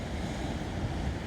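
Ocean waves surge and wash continuously at Shipwreck Rock, a steady broadband roar heard from high above the water with light wind on the microphone and no voices.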